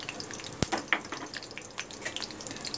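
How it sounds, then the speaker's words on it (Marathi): Mustard seeds and cumin dropped into hot oil for Maharashtrian okra bhaji, giving a light, steady sizzle with scattered sharp pops and crackles close by. "मोहरी टाकते पहिली, टाकते जिरं"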